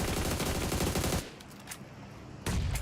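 Rapid automatic gunfire in a PUBG Mobile Global Championship match, loud dense bursts that cut off abruptly, fall to a quieter stretch with faint distant shots, then resume at full intensity.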